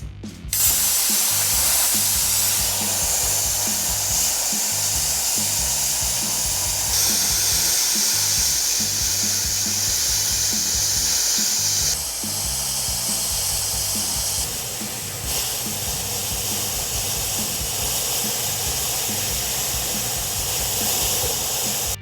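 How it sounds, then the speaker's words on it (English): Plasma cutter slicing through sheet metal for a dump body build, a loud steady broadband hiss running continuously with shifts in tone as the cut progresses, alone without talk. "So, first time running a plasma cutter."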